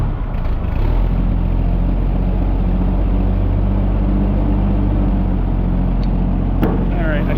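An engine turning over on a start attempt with the choke on gives a steady, loud low rumble with a droning, even pulse that runs throughout.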